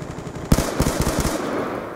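A sharp burst of rapid automatic gunfire from Call of Duty: Black Ops II on Xbox 360, fired as a pre-fire, rattling off about half a dozen quick shots after a quiet start and then tailing away.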